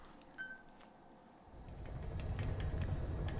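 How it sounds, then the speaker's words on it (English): A mobile phone rings over a game session, its electronic tone entering midway and repeating in steady bursts against low background noise. "Ba-bam. That was my phone."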